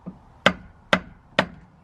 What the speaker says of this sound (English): Get a hammer, knock that drive shaft.